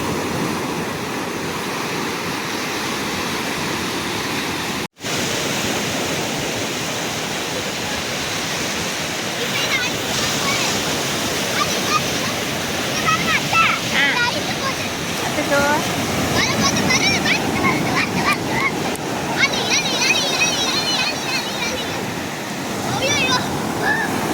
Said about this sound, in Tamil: வருது பெரிய அலை வருது